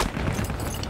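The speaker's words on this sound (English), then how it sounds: "someone's shooting to my left" Dense gunfire in the Battlefield 1 multiplayer video game, with rumbling, overlapping shots and booms forming a continuous loud battlefield din throughout a brief moment.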